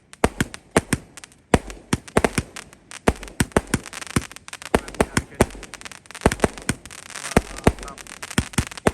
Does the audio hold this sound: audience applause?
no